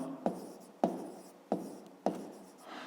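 Pen writing numbers on paper, four distinct scratchy strokes each starting with a sharp tap and trailing off, close and quiet with no voices.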